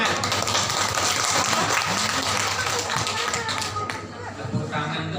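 Applause and clapping from a school audience at an Indonesian teachers' event, a dense steady patter of many hands throughout that thins slightly near the end.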